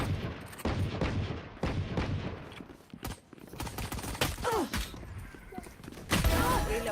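Bursts of video-game gunfire, with rapid sharp shots and volleys spread across several seconds, loud and close amid busy in-game effects.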